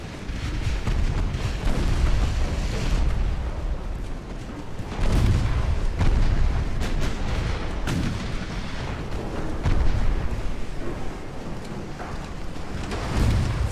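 Warship broadsides in the naval game Ultimate Admiral: Dreadnoughts, set in 1890, roll out as heavy repeated booming artillery salvos that overlap into a continuous thunderous barrage.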